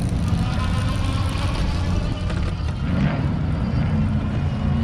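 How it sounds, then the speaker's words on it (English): A Magnum R2 conversion kit e-bike rides along under geared hub motor power, a steady broadband hum and rush of motion with wind buffeting the microphone, continuous and fairly loud throughout. "It's pretty quiet for a geared hub motor and pretty reliable."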